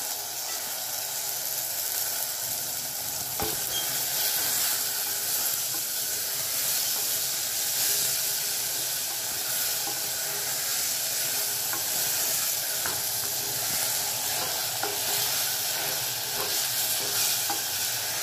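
Peas and cauliflower sizzling in a hot pan with tomatoes and salt, a constant soft frying hiss with occasional stirring scrapes and clinks throughout, close and unbroken, no talking.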